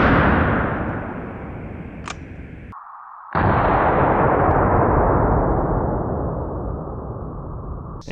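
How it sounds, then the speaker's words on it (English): A .44 Magnum revolver fires twice outdoors during a sandbag penetration test. Each very loud blast opens with a hard crack that rolls into a long, roaring decay, the second about three seconds after the first. "let's see what the 44 Magnum does"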